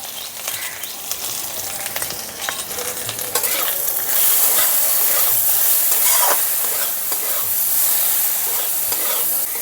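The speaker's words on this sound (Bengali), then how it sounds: "সামান্য একটু ভেজে নিলাম।" Ginger paste with turmeric and salt fries in a pan, a loud continuous sizzle that grows stronger partway through, with occasional scrapes and clinks of stirring.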